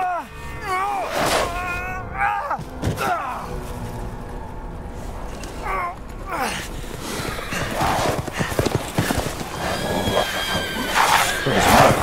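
A horse neighs and whinnies repeatedly in the Resident Evil Village video game, with clopping hooves and a voice talking over parts of it.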